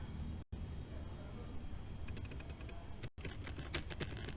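Typing on a computer keyboard while coding a login form, quiet clusters of rapid key clicks in short bursts, with brief silent gaps between, close and faint.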